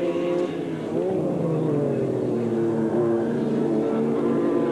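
Formula Holden open-wheel race cars at Mallala in 1990 roar past the pits, a loud engine note that dips and rises in pitch as they pass, sustained and close.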